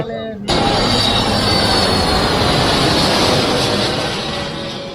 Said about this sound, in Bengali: বিমানটি নোবো এয়ারলাইন্সের একটি বিমান ছিল